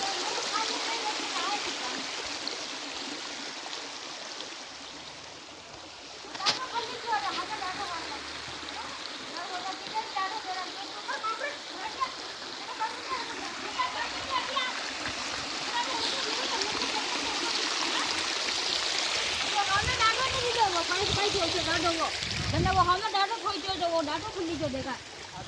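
Water rushes steadily through a gap after an earthen dam is opened, a continuous broadband flow with splashing that swells toward the end, while people talk over it throughout.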